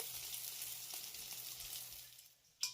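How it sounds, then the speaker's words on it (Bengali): Poa pitha made with date molasses fries in hot oil, producing a soft, steady sizzle that stays faint and even for a few seconds before a short clatter at the end, with no speech. "এই পিঠাটাকেও আমি খুব সুন্দর করে ভেজে নিয়েছি তেল থেকে তুলে নিলাম"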